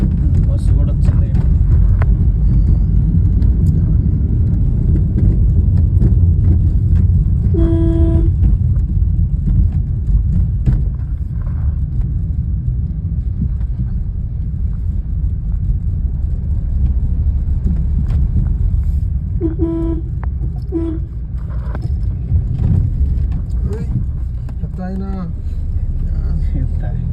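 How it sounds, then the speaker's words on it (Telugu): A bus pulls in along a road near a fishing spot, its loud engine rumbling steadily throughout. Brief horn-like tones sound around the middle and near the end, while people talk over the engine noise. "బస్సు కూడా వచ్చింది."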